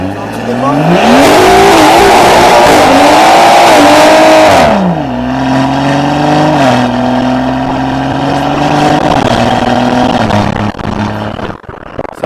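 A BMW 140i tuned to 530 hp and 780 Nm accelerates hard, its engine roaring loud and close with rising and falling revs through gear changes, then settling to a steady drone with a few sharp crackles near the end.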